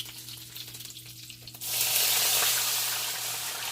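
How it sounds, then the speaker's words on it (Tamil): Rasam is poured into a hot tempering with curry leaves, setting off a sudden loud, steady sizzle that continues close up after a quieter moment of faint clatter. "இந்த ரசத்தை எடுத்து அதில் ஊற்றிடணும்"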